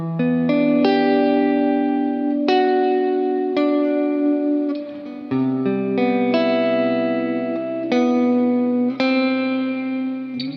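An electric guitar strums a series of chords through AmpliTube 5 software with JHS pedal effects, each chord ringing out with spacious reverb and trailing delay repeats that blur one chord into the next.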